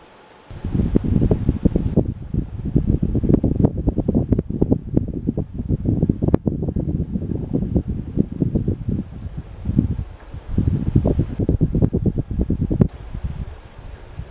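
Quiet, steady whooshing air from a 1984 4 Saisons Galaxy 120 cm ceiling fan running at close range, with a few brief breaks in the flow and no voices.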